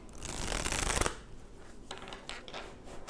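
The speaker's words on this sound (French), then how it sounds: "Les cartes sont tombées d'elles-mêmes." Tarot cards riffling and shuffling in a dense, loud burst for about a second, then softer scattered card slides and taps as they tumble and settle nearby.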